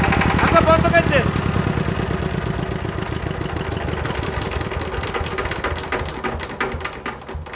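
An old Changchai or Saifeng diesel generator engine runs with a loud, rapid, even thumping beat, close by, and a person speaks over it at the start.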